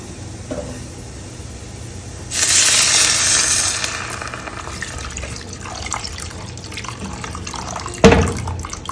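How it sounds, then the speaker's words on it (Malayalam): Water poured into a pan of fish curry masala being cooked for kappa and meen curry, a steady splashing pour of a couple of seconds followed by softer trickles and a brief clatter near the end, with no talking. "ഇതിലോട്ട് ബാക്കി വെള്ളം ചേർത്ത് കൊടുക്കാം."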